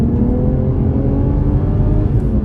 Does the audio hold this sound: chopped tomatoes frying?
no